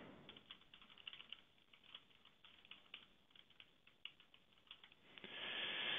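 A computer keyboard clatters with a quick, irregular run of soft keystrokes as a student's name is typed in, close and fairly quiet, with no talking.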